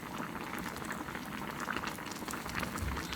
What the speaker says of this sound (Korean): 우리는 김치찌개가 약간 설컹한 게 좋다 그러면 이렇게 부르륵 끓여서 드시면 되고요